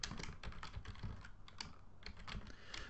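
Code being typed on a computer keyboard while scripting a Unity3D game, a quick, close run of clattering keystrokes with brief pauses, alone with no talk.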